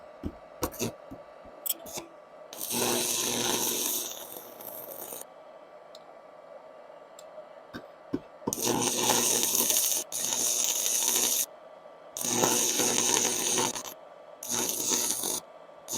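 Handheld stick welder burning a welding rod against metal, giving loud sustained crackling, sizzling bursts of a few seconds each, broken by short pauses and clicks.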